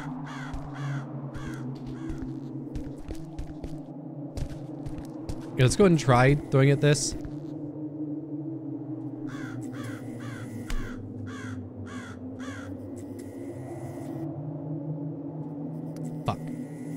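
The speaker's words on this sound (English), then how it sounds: "Hear that pesky crow?" A crow caws in short repeated bursts in the horror game Buried Alive: Breathless Rescue, set among graves, with a closer louder caw flurry midway, over a droning ambient hum while someone talks.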